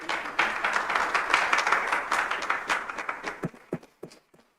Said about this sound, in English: no clapping and cheering, please